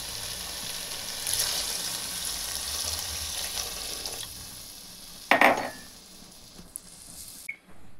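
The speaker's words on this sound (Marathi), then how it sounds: "आता आपण यामध्ये पाणी टाकणार आहोत" Water is poured into sambar dal in a pot, giving a gentle splashing, trickling wash with a few sharp clinks of a utensil against the pot near the end, close and fairly quiet, with no speech.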